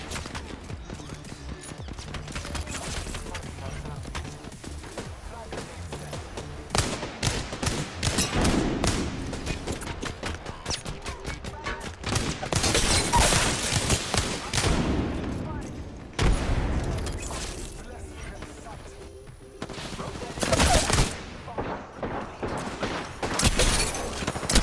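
Wingman pistol shots in Apex Legends, set amid a chaotic firefight, with repeated sharp gunfire bursts and impacts throughout, along with a voice talking over the action.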